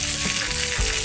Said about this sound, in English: I just get them on a fairly low sizzle